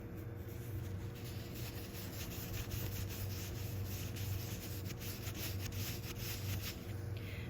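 Fingernail scratching the PUL side of a cloth menstrual pad, a steady close scratchy rustling that runs continuously for several seconds, quiet and even with no speech.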